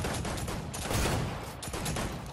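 A dual barrel shotgun in a video game blasts out as a loud, continuous barrage of gunfire with booming low rumble and crackling bursts, no voices over it.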